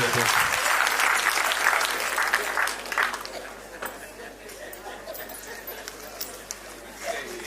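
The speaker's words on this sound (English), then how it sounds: "Let's give this guy a round of applause." Applause at a funding pitch event in Vhembe District breaks out loudly, then fades over a few seconds as voices and dog-like yelps come through underneath.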